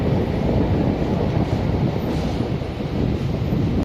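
A Chennai elevated MRTS train on the Velachery to St. Thomas Mount line rolls past close by, a loud steady rumble with wind buffeting the microphone, ending abruptly.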